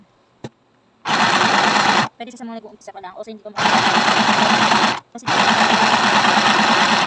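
A sewing machine stitches scrunchies in three loud, close bursts, each whirring evenly for over a second with short gaps between them. Someone talks in the quiet gap between the first and second bursts.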